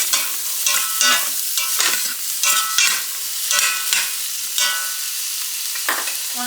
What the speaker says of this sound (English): we're just going to saute these onions for about 5 minutes